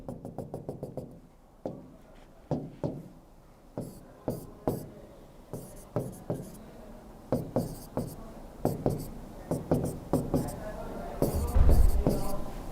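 Chalk or marker drawing a chemical structure on a board during a classroom lecture, with a run of quick, sharp taps and scratching strokes in bursts, close and clear, between pauses.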